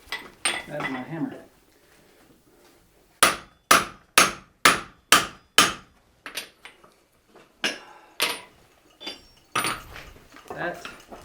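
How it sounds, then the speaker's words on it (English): A rounding hammer strikes metal at a forge about a dozen times in a brisk sequence of sharp ringing clanks, with brief pauses and some handling noise between. "That's my hammer."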